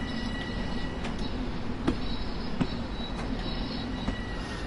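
A Long Island Rail Road train creeps slowly through the WestSide Yard in Train Sim World, its wheels rumbling steadily with sharp periodic clicks over rail joints and faint squeals, close and continuous, with no talk.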